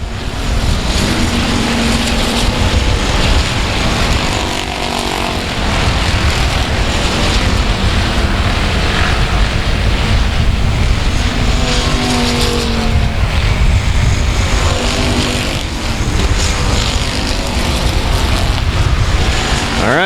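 Race cars roar around South Texas Speedway in a steady, loud, continuous engine drone, with pitch rising and falling as cars pass and a brief dip in the middle.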